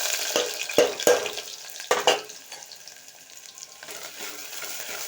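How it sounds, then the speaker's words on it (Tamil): Onion and garlic sauté in hot oil for a fish curry. A close, crackling sizzle is punctuated by a handful of sharp stirring scrapes early on, then settles into a softer, steady fry. "வெங்காயமும் பூண்டும் வந்து நல்லா வதங்கட்டும்."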